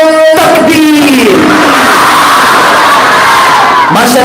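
A large crowd at a religious graduation ceremony answers a takbeer call with a loud, unified shout. A voice rises and falls through the roar, which swells and then trails off before a second call starts near the end.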